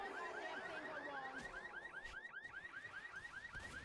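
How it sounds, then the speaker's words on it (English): A car alarm in Left 4 Dead wails in a steady, repeating up-and-down cycle, sounding continuous and somewhat distant beneath the game's background noise. "they hit the alarm"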